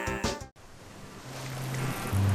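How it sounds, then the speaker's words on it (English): Ocean waves in a television commercial wash in after a brief cut, a soft swelling surf that builds steadily louder toward the end, with no talk. "This is the ocean."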